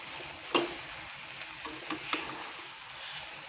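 Eggplants coated in masala sizzle quietly in a pan over low heat. A spoon stirs and scrapes them, with a few sharp clacks against the pan.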